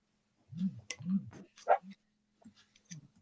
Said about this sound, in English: Who let the dogs up?